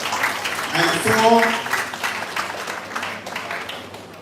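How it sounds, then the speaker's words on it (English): Audience applause for the participants of a primary school national public speaking competition in Dominica, a dense wash of clapping filling the hall throughout, with some talk mixed in. "let us give a round of applause to all of the participants"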